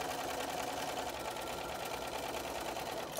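Sewing machine stitching a diagonal line across quilt fabric pieces, a loud continuous whirring motor hum running steadily and close throughout.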